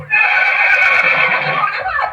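A single horse whinnies loudly in one sustained, wavering neigh, played as a sound effect in a Marathi stage play.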